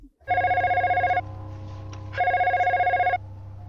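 A telephone rings in a scene from the horror film Scream 3, two loud electronic bursts of about a second each separated by a brief pause, with a steady low hum underneath.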